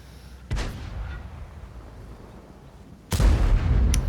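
Tank cannon fire in a tank battle video game, trading shots with an M48 Patton: two heavy, booming cannon shots about two and a half seconds apart, close and loud, with rumbling decay and no voices.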